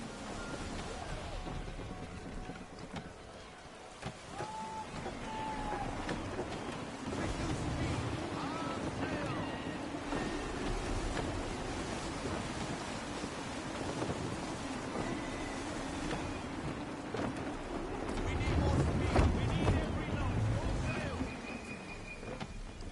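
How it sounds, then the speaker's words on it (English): Gusty sea wind buffets a sailing ship in Assassin's Creed 3, a continuous broad rushing roar with creaking hull and lapping water, swelling louder near the end. "Gusty winds can be difficult to manage."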